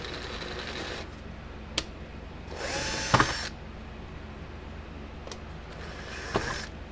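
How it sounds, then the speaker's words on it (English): A drill bit grinds at a rivet on a 1987 Parmak Super Energizer SE-1 electric fence energizer in one short whirring burst. A few sharp clicks and taps surround it over a quiet, low background hum, with no voices. "It wants to spin with the drill bit."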